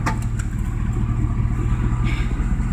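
A cheap Mazda RX-7 swapped to a 351 Windsor V8 churns with a low, steady, rumbling engine note throughout, close and fairly loud, with no voices.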